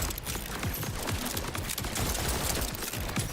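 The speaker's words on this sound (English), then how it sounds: "this is the gun that you have to keep your hold down the button to shoot" The Ripper gun firing in a video game, a held-trigger automatic weapon producing a rapid, continuous stream of shots at moderate level throughout, with no talk.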